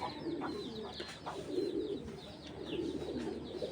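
Pigeons coo in low, rolling murmurs over steady background noise, with small birds chirping faintly at higher pitch.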